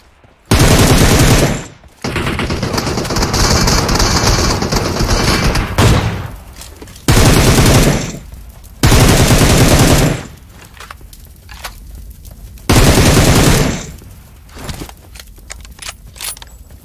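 Loud bursts of automatic gunfire from the battle game PUBG Mobile against a full enemy squad, several long sustained volleys separated by quieter stretches of scattered shots and rattling.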